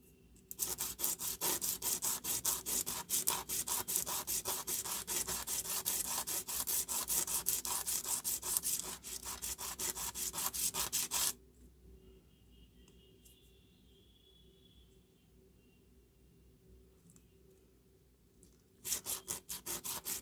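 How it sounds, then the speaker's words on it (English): A plastic Jinhao 599 fountain pen grip is rubbed back and forth on a flat surface, a dense, steady scraping for about eleven seconds, then near silence before the rubbing briefly resumes at the end. "We need to have a flat surface. Gently rub so that the peaks will be"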